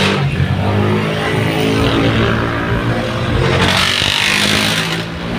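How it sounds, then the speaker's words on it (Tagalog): A large dump truck's engine runs loud and steady at close range beside a market, a continuous low rumble that swells slightly in the middle and fades a little at the end, with no talking. "dump truck yan mga idol"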